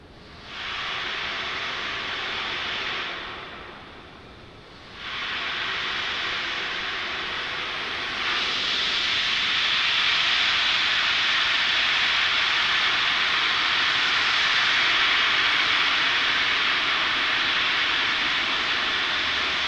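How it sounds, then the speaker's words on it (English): A SpaceX Falcon 9 rocket lifting off with 60 Starlink satellites, a broad, steady roar that swells, dips briefly, then settles into a loud continuous rumble sustained to the end, with no voices. "Let's listen into terminal count and watch as Falcon 9 takes our 60 Starlinks into orbit"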